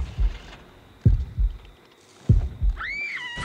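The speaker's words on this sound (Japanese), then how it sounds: "心音がだんだん近づいてきますね。" Deep heartbeat thuds in pairs in the horror game Horrorfield, a slow steady rhythm signalling an approaching killer, ending with a rising tonal whine.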